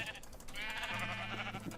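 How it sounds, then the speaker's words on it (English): A pink sheep bleating in the video game Minecraft, a single wavering bleat of moderate loudness, followed by a talking voice. "Another pink sheep also."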